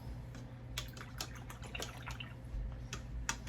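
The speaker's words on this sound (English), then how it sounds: "What we're going to do is rinse the brush really quick again." A paintbrush rinsed in a small container of water, quiet repeated swishes and drips close up over a low background hum.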